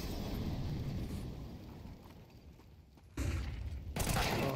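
Gunfire in a Counter-Strike match between NAVI and FaZe Clan: a rolling, muffled rush of shots with a sudden loud burst about two-thirds through and another near the end, dense and continuous.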